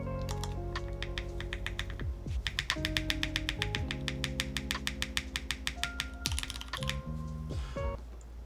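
Rapid keystrokes clatter on a newly built AK75 mechanical keyboard, close and crisp, in quick bursts with brief pauses over a low background hum.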